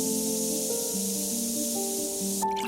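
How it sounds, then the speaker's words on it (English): Special spray guns release a ghostly red smoke in a long, steady, loud hiss with faint tonal hums beneath, cutting off abruptly near the end. "a ghostly red smoke was released from special spray guns"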